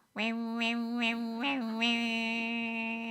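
A human voice imitates old-time cicadas singing gently from afar, producing a sustained, tonal, wavering call with several rhythmic pulses, held steadily and alone.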